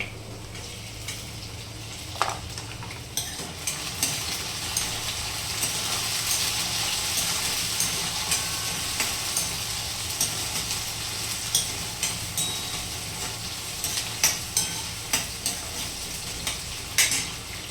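Onions and tomatoes fry in oil in a home kitchen pan, giving a steady close sizzle broken by repeated scraping stirs and light clinks of a spoon against the pot.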